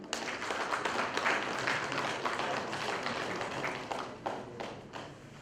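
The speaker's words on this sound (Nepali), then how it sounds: "जोरदार ताली" Loud applause at a closing ceremony as a participant is called forward to receive an award, dense clapping from the audience that thins out into scattered claps toward the end.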